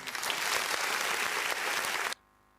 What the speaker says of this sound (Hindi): तालियों की आवाज